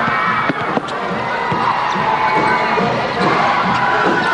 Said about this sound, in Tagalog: Nagwawala this early yung crowd natin dito sa Ninoy Aquino Stadium.